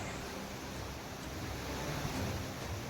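Steady broadband roar of the flooded Bhagirathi river rushing at Gangotri in Uttarakhand after heavy monsoon rain, a continuous wash of water noise with no voices.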